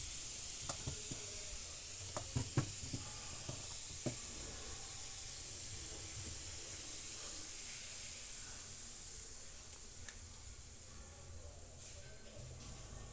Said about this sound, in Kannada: ಈಗ ನೋಡಿ, ಪಾನ್ ಬಿಸಿ ಆಗಿದೆ. ನಾನು ನೀರನ್ನು ಈ ರೀತಿ ಹಾಕ್ತಾಯಿದ್ದೀನಿ.